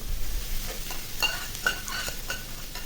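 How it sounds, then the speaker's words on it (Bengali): Maggi noodles hit a hot pan already holding vegetables, egg and chicken, giving a steady close sizzle with scraping stirs and light clinks of a spatula against the pan. "এখন নুডলসটা দিয়ে দিলাম, দেখুন।"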